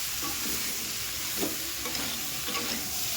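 Spiced curry with chili powder being sautéed and stirred in a pan for a rohu fish curry with potato, kohlrabi and eggplant, a steady close sizzle with scraping stirs throughout.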